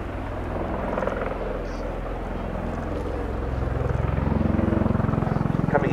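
A CV-22B Osprey tilt-rotor aircraft flying a demonstration gives off a continuous heavy rotor drone and low pulsing thrum that swells louder toward the end, heard from a distance with no voices.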